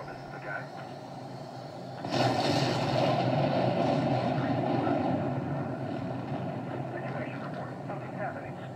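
A fighter jet taking off in Ace Combat 7 swells from a low engine hum into a loud, sustained broadband roar that holds steady for several seconds.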